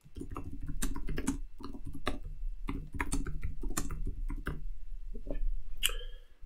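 Rapid, uneven clicks of typing on a computer keyboard, close and crisp, in bursts with short pauses between.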